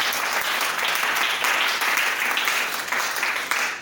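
A church congregation at a French-language Christian sermon breaks into sustained, dense applause that lasts the whole moment, moderately loud and even.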